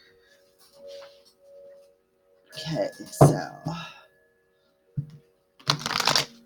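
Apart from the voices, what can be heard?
shuffling tarot cards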